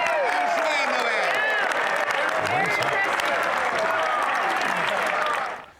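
Sustained applause fills a parliamentary chamber after a Christmas greeting, loud and dense for several seconds, with some voices mixed in, before the clapping trails off at the end.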